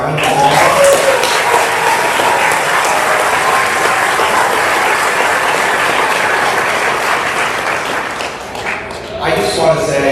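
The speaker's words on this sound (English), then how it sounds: "Can we get another round of applause?" A graduation audience applauds the class of 2026 with dense, sustained clapping that fills the room and thins briefly near the end before swelling again, with voices mixed into the crowd noise.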